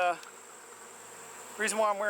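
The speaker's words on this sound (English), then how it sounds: "So these are all my killer bees." Africanized killer bees at an open feeder, a soft droning buzz hovering nearby between bursts of nearby talk at the start and end.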